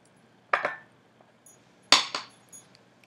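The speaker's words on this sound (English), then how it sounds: "Just mix it nicely." Utensils clink against a bowl while tossing a veggie salad with a lemon, black pepper and cumin dressing, two short clusters of sharp clatter separated by quiet.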